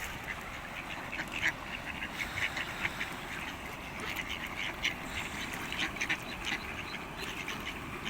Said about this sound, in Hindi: ये नई नई पट्टियाँ हैं बतखों की, ये वाली, ये सारी मुर्गाबियाँ हैं।